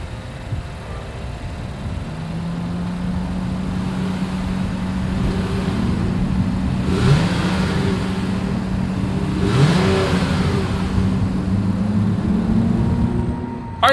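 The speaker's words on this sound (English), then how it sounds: "As always, here is that exhaust clip." A 2022 Honda Pilot SUV's exhaust idles steadily, then is revved twice in quick rising bursts that fall back to idle, loud and close.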